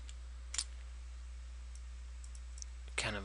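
Computer mouse clicks while editing in Photoshop: two crisp, close clicks about two and a half seconds apart, with fainter ticks in between over a steady low electrical hum.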